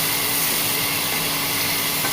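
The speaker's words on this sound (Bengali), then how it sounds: "নেড়ে দিলাম।" Eggplant and potato pieces fry in a pan and are stirred, giving a steady, close sizzling hiss that holds evenly throughout, with no speech.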